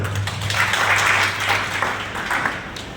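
Audience at a Deesa photographers and videographers association gathering breaking into sustained applause, a dense crackle of many hands clapping that swells and eases over a few seconds, with a low hum underneath.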